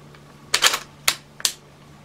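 A suppressed Hatsan Blitz .22 air rifle on full auto, fitted with a 40mm bolt cap and a factory spring, fires three quick bursts of sharp, close mechanical snaps with brief gaps between them.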